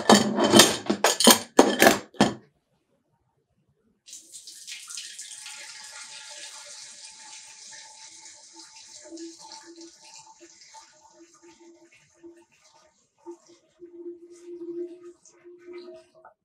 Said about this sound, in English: the next step in our process is going to be filling this with our back sweetening